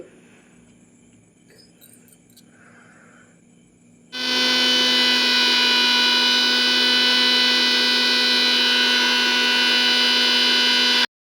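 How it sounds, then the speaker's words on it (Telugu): A mixer grinder grinding soaked chickpeas with green chillies starts after a quiet stretch with faint background sounds, then runs loud and steady with a strong motor whine and a harsh high buzz until it stops abruptly. "ఈ మిక్సీలోనే రెండు మూడు పచ్చిమిరపకాయలు కూడా యాడ్ చేసుకుని మిక్సీ అయితే చేస్తున్నానండి"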